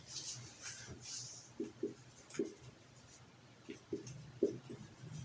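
Numbers are written on a board during a lesson on adding decimals: soft, scattered taps and short scratchy strokes in small clusters, quiet against room hum.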